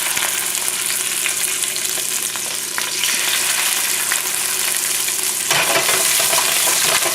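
Almond-encrusted fish fillet pieces fry loudly in a hot pan, a steady dense sizzle that swells brighter near the end as more pieces go in, with no voices.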